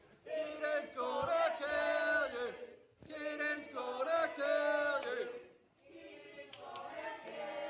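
A wrestling crowd at a Kid of Rock versus Canary Kid match roars and chants in loud rising waves, swelling and dropping in three surges with shouting voices mixed into the cheering.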